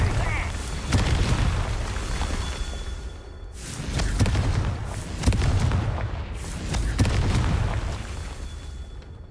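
Confringo fire-spell blasts in the Hogwarts Legacy video game: several booming explosions at irregular intervals, each with a sharp attack and rumbling tail, loud and close, over steady game ambience.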